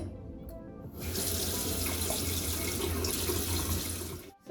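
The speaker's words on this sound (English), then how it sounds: "I'm going to wash my hands first" Tap water runs steadily into a sink as hands are washed, a continuous close hiss that starts after a brief quiet moment and stops abruptly near the end.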